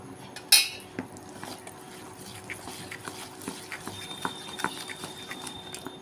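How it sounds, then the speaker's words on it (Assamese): Pancake batter being whisked in a bowl, with light repeated clinks and taps of utensil against the bowl and one sharper clatter near the start, fairly close but soft. "আৰু এতিয়া খুব ভালদৰে মই মিক্স কৰি ল'ম।"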